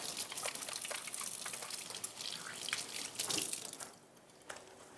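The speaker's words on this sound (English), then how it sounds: "Let me wash my hands." Hands being washed under a running kitchen tap, faint splashing and trickling water with small drips and gushes, quieter toward the end, no speech.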